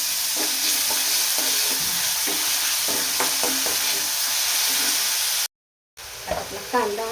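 Onions salted and stirred in a hot pan give a steady frying sizzle, with occasional scrapes of the spoon, a brief silent gap, then someone speaking over the cooking.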